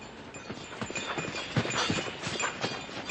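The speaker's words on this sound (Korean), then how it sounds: "방울소리가 요란하게 들려오더니 가게 앞에 상두마차가 멈춰서는 것이었다." A horse-drawn carriage pulls up with a rhythmic clip-clop of hooves, fairly close and steady, with light jingling in the background and no voices.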